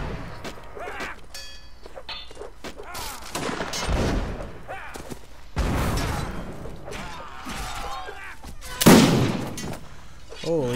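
Artillery cannon fire in the Napoleonic Wars game Mount and Blade, several heavy booming blasts with rumbling tails scattered among crackling musketry, mid-distance, with voices talking through it.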